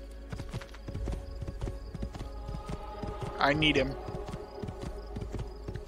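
Horse hooves clip-clop in a steady walking rhythm in the video game Assassin's Creed 2, close and moderately loud, with a short whinny-like sound partway through. Someone talks briefly.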